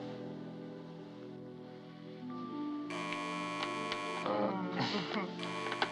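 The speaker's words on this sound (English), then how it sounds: "Hey, the telephone's ringing." A telephone rings in a 1963 film scene: two bursts of bright, bell-like ringing separated by a short gap, moderately loud over a softer musical background.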